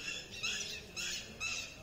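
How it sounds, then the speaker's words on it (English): Parrots squawking at a campus known for birds, three harsh bursts in a row, moderately distant and fairly faint over outdoor background noise. "So this place is actually famous for birds, parrots, peacocks."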